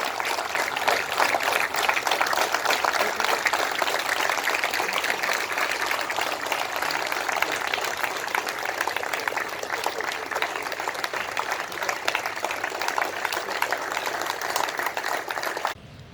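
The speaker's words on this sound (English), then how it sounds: "Ladies and gentlemen, please give a huge round of applause" Sustained applause from a large crowd, dense and even for about fifteen seconds before cutting off abruptly.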